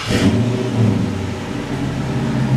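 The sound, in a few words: Dodge Charger 5.7L engine starting up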